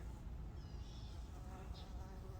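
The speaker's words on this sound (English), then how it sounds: "look, there's bumblebees all over it" Bumblebees feeding on blooming flowers in an October front yard give off a faint, steady buzzing hum, heard alone at low level outdoors.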